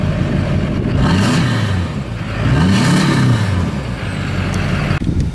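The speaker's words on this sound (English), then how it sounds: "This is an exhaust that has been modified. It is sometimes too loud for the conditions" A loud engine with a modified exhaust revs up twice in deep rising-and-falling surges, with a rough, throaty exhaust tone, ending with a short sharp click.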